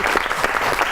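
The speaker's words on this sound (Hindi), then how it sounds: "तालियां बजाइए।" Studio audience at a Pakistani comedy talk show bursting into brief, loud applause, many hands clapping densely and close for a second without voices.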